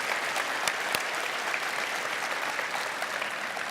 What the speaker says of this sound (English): if I get one round of applause for you guys